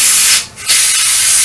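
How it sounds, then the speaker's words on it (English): Paint spraying onto the wheels of a StuG III Ausf G scale model tank, a steady close airbrush-like hiss that dips briefly near the middle and then resumes, with no talk. "So now I'm just starting to spray the wheels."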